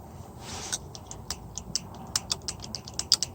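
Sharp, light mechanical clicks from the steering wheel contact ring of a 1965 Ford Mustang repeat in quick, irregular succession against a quiet background.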